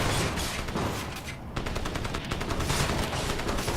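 Rapid automatic gunfire rattles through a Crysis firefight, bursts of closely spaced shots filling the scene with only a brief lull partway through.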